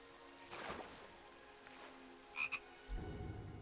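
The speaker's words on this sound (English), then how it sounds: "it's a frog." A frog croaks in Skyrim with the Lorerim modpack, two short close croaks around the middle of the clip over quiet ambient water and background sound, with a low thud near the end.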